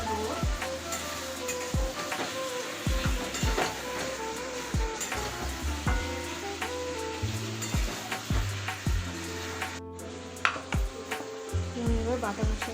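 Mutton sizzles and spits in a hot pan while frying before spices are added, with a steady crackle broken by clinks of a stirring spoon, under soft speech.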